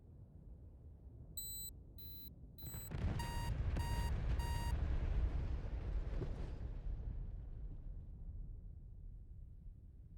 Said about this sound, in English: one of our bombs hit the target area direct